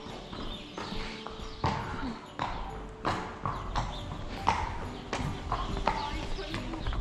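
Horse hooves clip-clop in a steady walking rhythm on a Christmas hack out in the UK, close and distinct, with a rider talking over the footfalls throughout.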